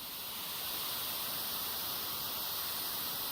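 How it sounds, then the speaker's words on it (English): White noise from a synthesizer in the SynthVR software: a steady, even broadband hiss that holds at a constant level throughout, with nothing else heard. "That's what white noise sounds like."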